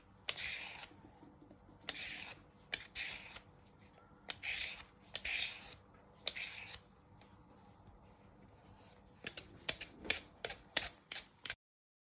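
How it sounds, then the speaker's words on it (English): Parsnips are peeled, each stroke of the peeler giving a short scraping rasp, repeated in irregular bursts and ending in a quick run of rapid strokes. "But at first we're just peeling all the skin off, and you just keep going round one more time."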